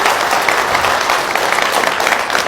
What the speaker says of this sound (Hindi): एक बार जोरदार तालियां हमारी ऑर्गेनाइजेशन के लिए होना चाहिए।